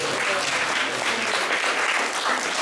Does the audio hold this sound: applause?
yes